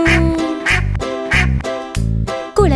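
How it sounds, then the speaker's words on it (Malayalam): A duck quacks in a string of short nasal calls, clear and close, over a rhythmic children's music backing. "താറാവ് വന്നു താറാവ് വന്നു"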